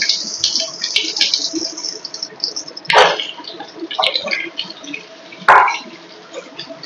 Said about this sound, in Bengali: এরপর আমরাগুলো দিয়ে দেবো তেলের মধ্যে